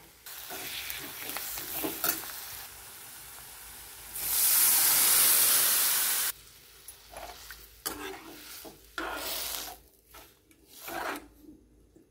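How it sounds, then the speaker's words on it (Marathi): Mung beans, already cooked, tipped into hot tempering oil, giving a loud hissing sizzle that bursts out and holds for about two seconds. Quieter stirring, scraping and clinks of a spoon against the pan come before and after it. "हे पहा मूग शिजलेत, मुगाला फोडणी द्यायची आपल्याला."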